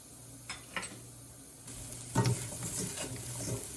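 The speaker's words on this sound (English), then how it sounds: "Mix everything together" Broccoli with dhania-jeera powder and salt being stirred in a pan, a faint low sizzle broken by a few soft scrapes and clinks of the spoon, quiet and close.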